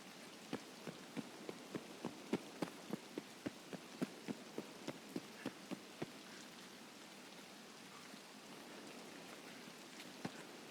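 Rain patters on a surface in the video game Escape from Tarkov, a quiet steady hiss broken by a regular run of crisp drip-like ticks that fade out halfway, then one more tick near the end.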